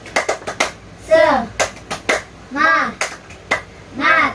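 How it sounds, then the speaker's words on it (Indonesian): Classroom of children performing a rhythmic spirit clap before prayer at the end of a lesson: sharp patterned claps in quick groups alternating with short chanted children's voices, close and lively. "Sebelum doa, yuk kita tepuk semangat."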